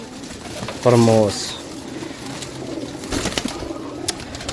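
Pigeons in a Pakistani pigeon keeper's collection, with one short close coo standing out above a quiet background of faint bird sounds. Someone speaks briefly.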